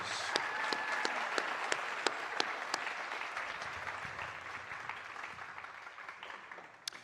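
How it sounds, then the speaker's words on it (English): Graduation audience applauds scholarship recipients, a dense, steady wash of clapping from a large crowd with a few sharper individual claps, gradually tapering toward the end. "Let's give our 2026 scholarship recipients a round of applause."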